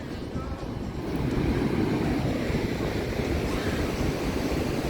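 Steady, loud wind roars across an open beach in Ratnagiri, a broad rushing noise that stays constant throughout with no voices.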